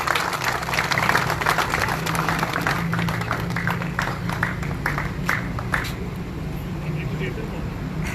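Audience applause for Chaudhry Qamar Zaman Awan at a gathering, a steady wash of clapping throughout with a low hum beneath it.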